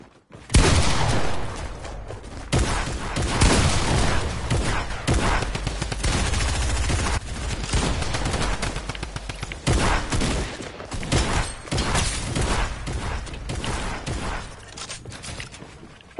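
Video game gunfire scoring headshots: loud, rapid bursts of shots that keep crackling almost nonstop for over fifteen seconds, with brief dips between volleys.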